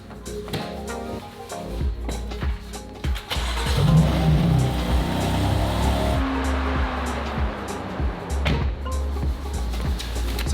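A rebuilt BMW M4 engine cranks and starts, then settles into a running idle with throttle blips and a rising rev, close and loud amid clicks and cabin noises.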